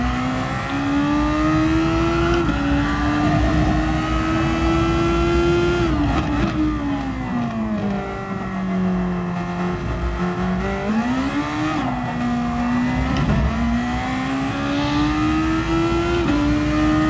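A race car engine in a racing video game drones steadily through laps, its pitch rising and dipping as it brakes and accelerates through corners, loud and continuous.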